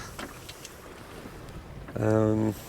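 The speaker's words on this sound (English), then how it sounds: "We are sailing along around 4 knots." Wind and water rush steadily past a 28-foot sailboat crossing toward Norway near midnight at about 4 knots, with a brief louder low droning tone swelling near the end.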